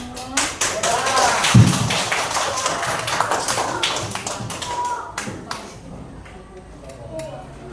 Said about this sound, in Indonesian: Kalau tepuk tangan.